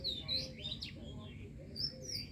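Two bulbul birds perched on a high tree branch on a spring morning give short, faint chirps and tweets over soft background hum, a few quick calls across a brief moment.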